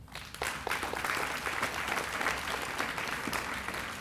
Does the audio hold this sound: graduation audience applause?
yes